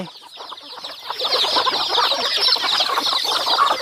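A flock of chickens cluck and chatter busily at feeding time, many overlapping calls building and staying loud and close throughout.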